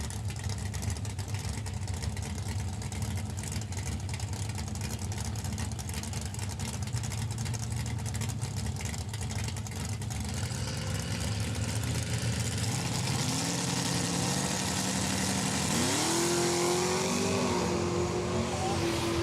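Loud engines of a 1972 Chevy Vega and a 1966 Ford Fairlane roaring side by side at a drag strip, a steady dense drone that climbs in pitch near the end as they launch and accelerate.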